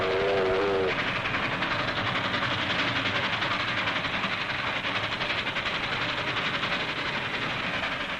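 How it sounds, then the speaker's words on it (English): A 1950s steam locomotive runs in a steady, dense rumble of rolling wheels and hissing steam, loud and continuous throughout, with a brief whistle-like tone at the very start. "see the big steam engines leaving their trails of smoke behind them, huffing and puffing out history with every turn of their wheels"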